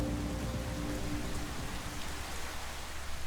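Steady rain falling in the city of San Juan Capistrano, a dense, even hiss of drops hitting surfaces that fills the whole stretch with no voices.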